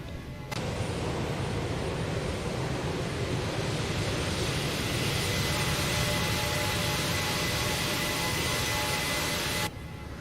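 Qantas Boeing 737 jet engines in flight give a steady, broad roaring hiss that holds constant for several seconds before cutting off near the end.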